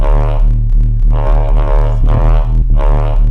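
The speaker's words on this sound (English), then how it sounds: "Nice rumbly low endy bass." A deep, rumbling drum and bass synth bass preset plays alone, sustained low notes pulsing in a steady pattern with a thick, buzzy low end.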